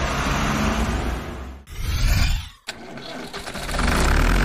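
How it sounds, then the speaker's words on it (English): A taxi engine cranks and starts, loud and close, with a rising rev and a sharp break before settling into a running engine. "Taxi."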